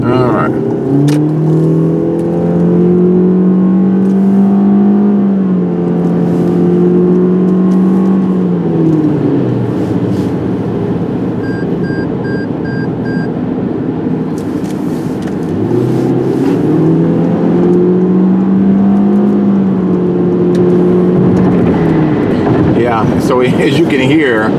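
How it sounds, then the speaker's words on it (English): A 2019 Toyota C-HR LE with a CVT accelerating up a ramp, its engine droning and rising to a loud, strained whine that holds steady, eases off, then climbs again, heard from inside the cabin. "it screams when you give it the gas so you can get out in traffic"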